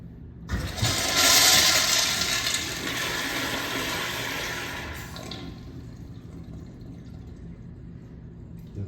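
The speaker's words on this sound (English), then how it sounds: "Do a test flush." Toilet fitted with a Zurn vacuum breaker flushes once after repair: a sudden loud rush of water that roars for a few seconds, then eases into a quieter refill hiss.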